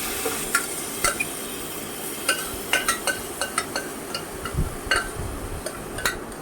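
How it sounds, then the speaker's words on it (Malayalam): A spoon stirs cooked beef through kappa biriyani in a pan, giving scattered scrapes and light metallic clinks over a soft, steady sizzle, with no voices. "അപ്പോൾ ബീഫ് ചേർത്തിട്ട് നന്നായിട്ട് ഇളക്കി കൊടുക്കാം കേട്ടോ."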